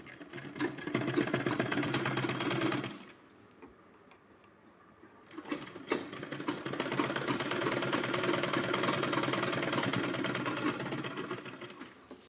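Sewing machine running close by in steady, fast stitching bursts along a fabric strip for a small doll's dress, pausing briefly midway and then resuming.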